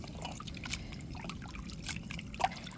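Peeled dried fish is rinsed in a bowl of water, giving soft close trickling and sloshing with small drips, quiet and continuous over a few seconds.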